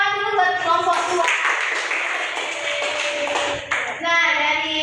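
A classroom group gives a burst of clapping for the second group, a dense patter lasting a few seconds, with children's and adults' voices talking before and after.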